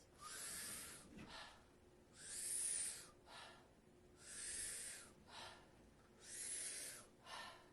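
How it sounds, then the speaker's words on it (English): Wim Hof powerful breathing: deep, forceful inhales followed by soft exhales, repeating in a steady rhythm of about four full breaths, close and clear with no talking. "So we're going to jump into the Wim Hof breath."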